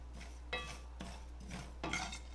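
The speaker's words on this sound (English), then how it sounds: "that's why I'm constantly stirring it" Rice stirred in shortening in a pot, four rhythmic scraping sweeps of a utensil against the pot over a low steady hum, fairly quiet and close.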